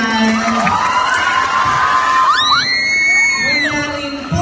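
A crowd at a Miss Gay pageant cheers and shouts loudly, with high whoops and rising yells over a steady roar of voices.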